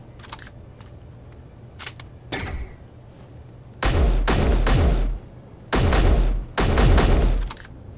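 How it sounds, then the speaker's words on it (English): Rapid automatic weapon fire in the Space Engineers video game, several loud sustained bursts separated by short gaps, preceded by a few faint isolated clicks. "Rapid fire."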